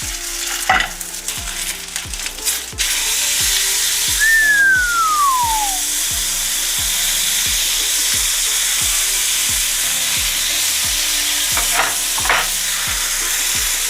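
Potato dumplings (kopytka) frying in oil in a pan over a low flame, a loud, steady close-up sizzle with a rhythmic tapping underneath and a brief whistling tone partway through.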